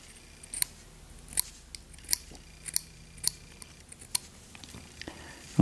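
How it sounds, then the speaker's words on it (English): Matchsticks having their corners scraped off on all four sides for a matchstick house door give a series of sharp, close scratchy strokes at a steady, irregular rhythm, heard alone over a quiet background. "I'm just going to take and scrape the corners off these"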